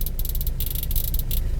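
Climate control buttons in a 2021 Honda City are pressed in quick succession, giving a run of crisp, close clicks in bursts over a low cabin hum. No one speaks.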